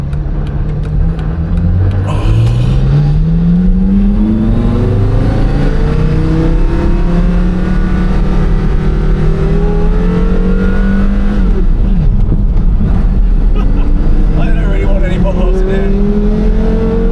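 Porsche Carrera GT engine revving through rising and falling pitch sweeps while the car is driven, loud and continuous throughout, with voices talking over it.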